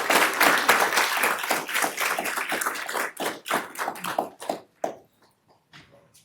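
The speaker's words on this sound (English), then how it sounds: "Can we give her another round of applause?" Applause from the audience at an Elk Grove City Council meeting: dense, steady clapping that thins into scattered separate claps over the last seconds and then stops, leaving near silence.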